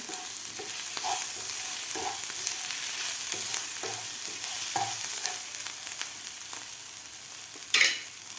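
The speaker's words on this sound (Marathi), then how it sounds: "मी चार हिरव्या मिरच्या आणि थोडंसं आलं मिक्सरमधून काढून घेतलेलं आहे ते घालायचं आपल्याला आता हे सुद्धा आपल्याला व्यवस्थित परतून घ्यायचं आहे" Green chilli and ginger paste with cumin sizzle steadily in a pan, with repeated scraping stirs every second or so and a sharper clatter near the end, all close and without talk.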